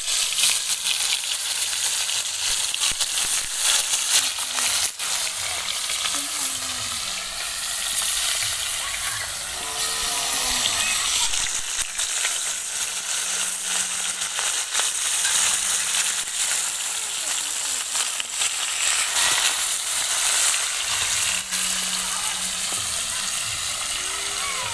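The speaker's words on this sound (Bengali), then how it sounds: "তো তার আগে আমি মাছগুলো সব ভেজে নেব।" Snakehead fish fry in hot mustard oil in a pan, giving a loud, continuous close sizzle with crackling spatter and occasional stirring scrapes throughout.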